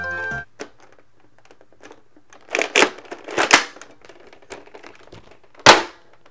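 A Nerf Thunderhawk blaster, a clip-fed Mega Dart blaster with a priming handle, gives a few sharp plastic clacks and snaps spaced across a quiet room, one loud crack near the end.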